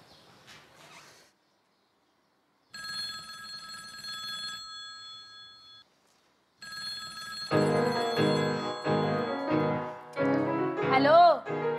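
A telephone rings in an Egyptian home in 2018, sounding in two steady bursts of bright electronic tone separated by silence, then music with a piano-like melody swells up afterward, with a brief voice faintly heard at the start.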